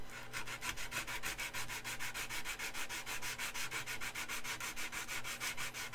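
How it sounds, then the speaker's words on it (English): Steady back-and-forth sanding, a rapid regular rasping rhythm that continues without pause, close and fairly loud, with no voices. "Sanding, sanding, sanding."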